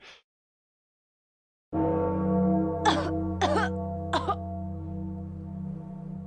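After a brief silence, a game character gives three short harsh coughs in quick succession over a steady droning hum, in the video game Pathologic.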